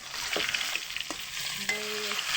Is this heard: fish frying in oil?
yes